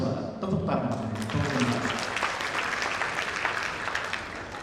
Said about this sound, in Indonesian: Tepuk tangan untuk Unhas.